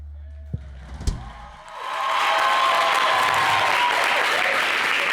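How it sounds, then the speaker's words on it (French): Studio audience on an Ivorian TV variety show breaks into sustained, dense applause that swells in and holds steady, preceded by a few brief knocks and thumps in a quieter room. "Bravo, merci de l'applaudir."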